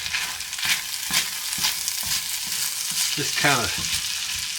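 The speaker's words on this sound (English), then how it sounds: "fry it a little bit, just get it all hot and that kind of thing" Creamed corn sizzles and fries steadily in a hot pan, a continuous close crackle with occasional stirring scrapes and a brief voice speaking over it.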